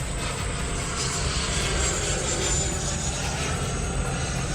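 An E-flite F-16 RC jet with an electric ducted fan banks through a tight, minimum-radius turn, its steady high-pitched whoosh and roar filling the air at a constant, fairly loud level throughout.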